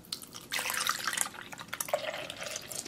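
Milk glugs and splashes from a gallon jug into a bowl holding an iPhone 6, a brief pour with bubbly, dripping liquid sounds up close.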